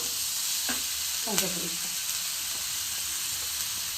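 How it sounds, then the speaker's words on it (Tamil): Potato filling for aloo paratha fries in a pan, a steady close sizzle with a couple of brief clinks and scrapes from stirring. "நல்லா இதை வந்து ஃப்ரை ஆகட்டும்"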